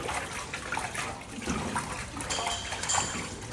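Water from a mechanical room system being pushed into a pipe for winterization, a steady watery trickle and rush with some clatter, continuous and fairly close.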